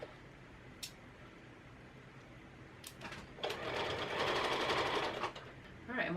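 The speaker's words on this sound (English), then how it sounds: "so let's sew this together" A sewing machine stitches a non-stretch fabric cover for a dress form in short bursts, then runs in a longer steady whir, close and moderately loud.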